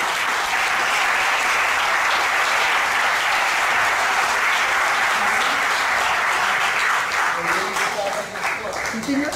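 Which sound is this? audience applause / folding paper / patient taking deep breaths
audience applause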